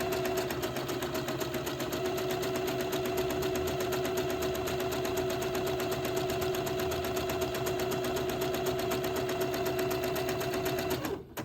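A sewing machine zigzag stitches lace onto baby dress fabric, running as a steady, fast, even mechanical chatter for about eleven seconds before halting at the end.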